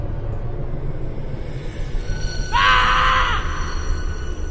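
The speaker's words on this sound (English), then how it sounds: "More screaming." An enemy creature's screaming roar in Lord of the Rings Online, a single loud harsh cry lasting about a second over a steady rumbling game background, with no talk.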